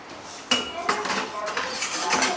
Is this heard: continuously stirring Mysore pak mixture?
yes